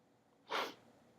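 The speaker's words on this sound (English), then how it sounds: "I just did that one sneeze and just like um, my sinuses are just like flaring up." A single person's sneeze, sudden and breathy, in a quiet room and lasting about a third of a second, with the sinuses flaring up.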